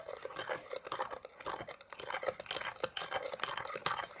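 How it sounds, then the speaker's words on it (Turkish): A spoon scrapes and stirs a slime mixture made from kinetic sand in a bowl, giving close, quiet, irregular gritty scratching strokes that repeat continuously. "Evet, iyice karıştırıyoruz."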